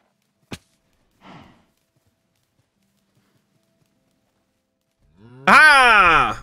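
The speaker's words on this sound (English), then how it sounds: "new baby cow arrived" A single loud, drawn-out cow moo from the Minecraft video game comes near the end, preceded by a sharp click and a brief faint rustle, with silence in between.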